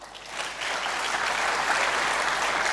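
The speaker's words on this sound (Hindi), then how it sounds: "धर्मशिला मैम और सुरेंद्र सर के लिए एक बार जोरदार तालियां" Loud, sustained applause from a seminar audience at a Hindi network marketing conference in Bihar, honouring Dharmshila ma'am and Surendra sir; dense clapping swells in the first half second and holds steady throughout with no talking.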